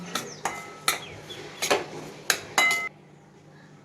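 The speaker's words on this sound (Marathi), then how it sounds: "दोन चमचे तूप टाकून आपण रवा भाजून घेणार आहे" Semolina roasted in ghee in a pan for pineapple sheera, with a metal spoon giving six or seven sharp clinks and scrapes against the pan, close and distinct, then falling quiet.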